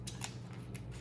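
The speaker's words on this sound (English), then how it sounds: "And you cut down the lobster," Kitchen scissors snip through the shell of a boiled lobster tail in a couple of quick, crisp cuts over a low steady background hum.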